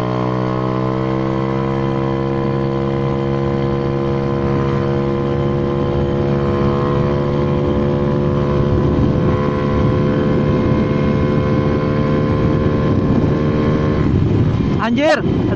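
A carbureted Honda Vario scooter with a bored engine, running a stock CDI, holds a steady droning hum at top speed on the road. The sound is loud and continuous, with a brief rising whine near the end.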